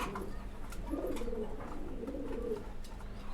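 Pigeons in a loft give soft, low cooing calls in a couple of rolling phrases, close but quiet over a faint background rustle.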